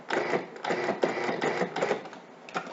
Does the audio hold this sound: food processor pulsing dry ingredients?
yes